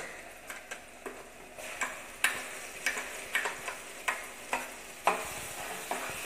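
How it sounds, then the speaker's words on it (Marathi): Ground masala paste for chole fries in oil while a spoon stirs and scrapes the pan in regular, distinct knocks over a low sizzle, close and fairly quiet. "वाटणही तेल सुटेपर्यंत चांगलं खमंग भाजून घ्यायचं आहे"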